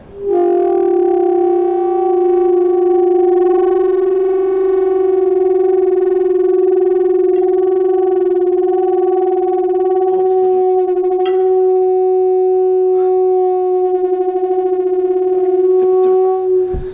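Two steady resonant tones from heated pipes hum together for the whole stretch, loud and sustained with rich overtones, with a few faint clicks near the end.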